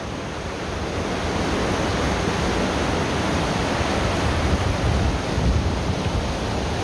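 Rushing creek water of South Boulder Creek in a canyon above Gross Reservoir, a steady, loud broadband roar that runs unbroken throughout with no voices.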